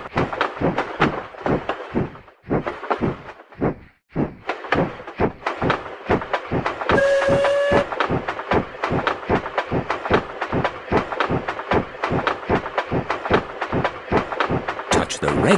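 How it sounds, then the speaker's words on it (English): Cartoon train in the Peppa Pig Theme Park app game chugs along with rapid, evenly spaced clicking beats throughout, loud and close, briefly pausing near the start, with a short chime tone in the middle. "Turn the wheel to make the train go faster."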